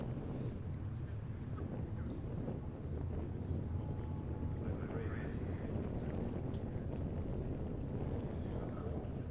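Gusty wind buffets an open microphone at Silverstone race circuit before a race, a loud, steady low rumble that rolls on for the whole stretch with no clear break.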